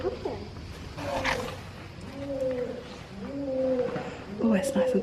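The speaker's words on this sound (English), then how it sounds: "Where is that pigeon?" Pigeon cooing inside a cool, enclosed ancient structure along the Appian Way near Rome, with soft repeated coos under people talking nearby.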